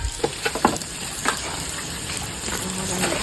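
Local shrimp fry in a pan at an outdoor family picnic, giving a continuous sizzle, with a few quick stirring scrapes near the start.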